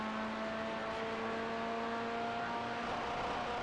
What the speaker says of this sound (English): Engine audio on this keeps hitting the rev limiter.